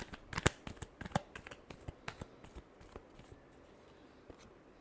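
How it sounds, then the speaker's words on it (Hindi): Tarot cards are shuffled close up in quick papery riffles and flicks, a burst of sharp snaps at first thinning into softer, sparser rustles, with no talking. "Last shuffle."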